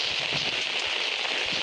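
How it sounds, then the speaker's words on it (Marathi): Steady, dense rain pours continuously onto surfaces during a prolonged monsoon spell in the Konkan countryside, a close, even hiss with no pauses. "21 तारीखपासून जो पाऊस पडता तो अजूनपर्यंत चालूच आहे, कंटिन्यू."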